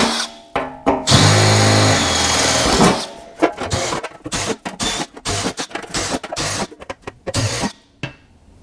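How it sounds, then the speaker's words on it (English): A power drill whirs loudly in a long steady run, then continues in short, stop-start bursts, drilling holes slightly undersize in the inner fenders of a 1966 GMC. "what I'm going to do first is just drill these out to a size just under the final size."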